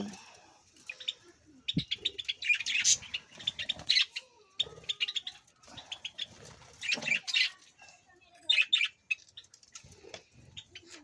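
Budgerigars in winter chirp and tweet in quick bursts while pecking at calcium- and vitamin-rich food, with soft scuffling and occasional wing flutters between calls, close by and without talk.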